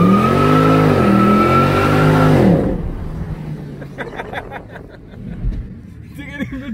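A Mercedes C63 AMG V8 on new wheels revs loudly and close up in a sustained, rising and falling roar that cuts off sharply and fades, followed by quieter background noise and people talking.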